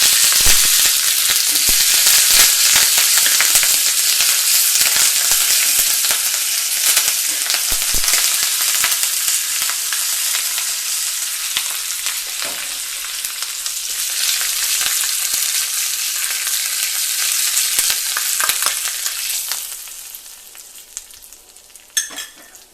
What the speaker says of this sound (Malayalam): ഇതിലേക്ക് നമുക്ക് കറിവേപ്പില ഇട്ട് കൊടുക്കാം